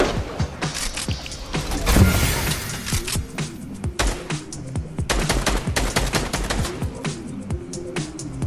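Rapid gunfire and sharp shots from a Fortnite match, including sniper rifle fire, burst out in loud clusters with a heavy volley around the second mark, then continue as scattered cracks and impacts throughout.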